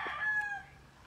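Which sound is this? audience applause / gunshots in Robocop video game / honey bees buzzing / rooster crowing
rooster crowing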